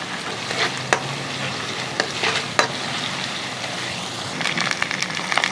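Sliced onions fry in a hot pan, giving a loud, continuous close sizzle with a few scraping stirs of a utensil breaking through.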